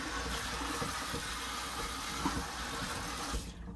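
Tap water runs steadily into a kitchen sink while something is rinsed during potato cooking, a continuous close hiss that cuts off just before the end.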